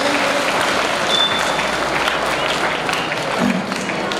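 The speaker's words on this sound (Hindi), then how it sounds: "तालियां बजाकर हौसला अफजाई करें" A large crowd applauds loudly at a school annual function, a thick continuous roar of clapping that stays strong throughout, with a faint voice briefly heard beneath it.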